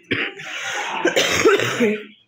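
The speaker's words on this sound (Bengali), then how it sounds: "কাশি হয়েছে কিন্তু" A person coughs close by in a rough burst of several coughs, mixed with throat clearing.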